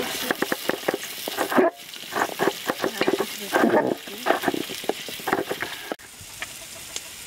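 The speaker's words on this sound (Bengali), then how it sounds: "এখন ভালোভাবে পেঁয়াজগুলো একটু নেড়ে চেড়ে ভেজে নিচ্ছি।" Onions are stirred and fried in oil on a village clay stove. Brisk scraping strokes repeat over a crackling sizzle, close and fairly loud, while chickens cluck faintly in the background.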